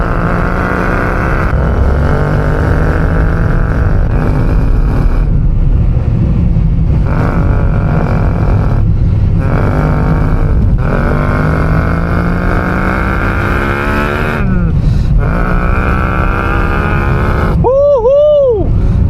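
Synthetic V8 engine sound played through the cabin of a 2015 VW Up 1.0, a loud continuous rumble that rises and falls with revving, steady throughout, with a sharp tonal sweep near the end.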